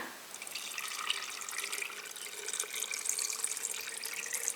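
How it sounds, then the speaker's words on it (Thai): Cooled boiled pickling liquid poured into a jar of grapes, a soft, continuous, steady splashing pour that lasts the whole moment without talk. "เดี๋ยวจะเอามาเทใส่ขวดโหลนะคะ ที่ใส่องุ่นนะ เทใส่ให้ถ่วมองุ่นนะ"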